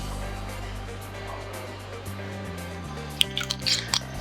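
Sparkling wine is poured into a spritz cocktail with a lemon twist in a hotel bar kitchen. Soft liquid drips and a short burst of fizzy splashing come near the end over a low hum.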